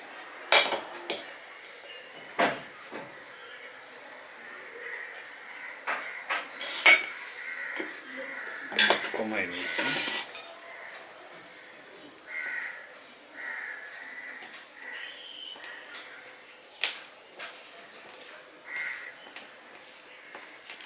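Someone eats shak greens with dal and koi fish curry, making sporadic clinks and scrapes of fingers and dishes, with crows cawing in the background and occasional quiet chewing sounds between.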